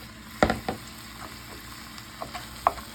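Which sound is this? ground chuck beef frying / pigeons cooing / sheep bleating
ground chuck beef frying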